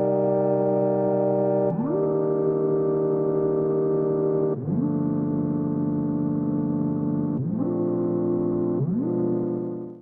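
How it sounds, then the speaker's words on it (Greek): A synthesizer melody from Splice that resembles an electric piano, with a slow attack so each note swells in softly; a handful of sustained notes sliding between pitches, smooth and steady with nothing else heard. "ένα ηλεκτρονικό πιάνο και με αργό attack και ακούγεται κάπως έτσι."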